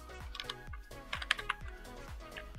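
Quick, crisp keystrokes on a computer keyboard tap out an uneven burst of typing, close and fairly quiet, with no voices.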